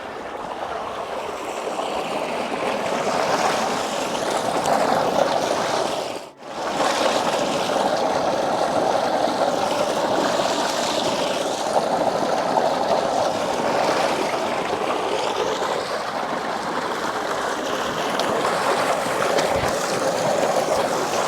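Water pours steadily from a tube well pump in a Punjabi village, a continuous close rushing and splashing flow that runs on without pause and without talk.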